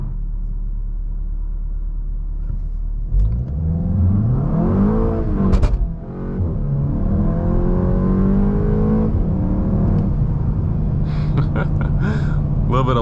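A VW MK8 GTI in sport mode accelerates hard with a rising engine roar, then a dip as it shifts and pulls again, with crackling exhaust pops near the end, heard from inside the car with a driver speaking.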